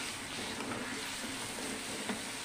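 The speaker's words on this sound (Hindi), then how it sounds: "इसी समय हम टमाटर डालेंगे, 1 बड़े साइज़ का टमाटर है।" Tomato and salt added to frying spices in a pan for lobia (bean) sabzi give a soft, continuous sizzle with a few faint clinks, quiet throughout and with no talking.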